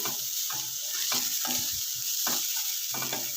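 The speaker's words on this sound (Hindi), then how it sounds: "सब्जियों को ज़्यादा फ्राई नहीं करना, हल्का सा इनको स्टर फ्राई करना है।" Mixed vegetables being lightly stir-fried in a pan for chicken vegetable soup give a steady loud sizzle, broken by repeated clanking strokes of a spoon stirring against the pan, with no voices.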